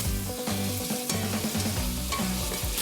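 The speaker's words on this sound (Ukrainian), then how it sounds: "свинина підсмажена на салі" Pork sizzles and crackles steadily in hot lard, a constant frying hiss with occasional stirring scrapes, close by and with no talking.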